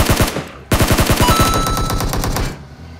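Rapid automatic Beryl rifle fire in a shooter game, a short burst, a brief pause, then a longer sustained burst of loud, closely spaced shots that trails off at the end.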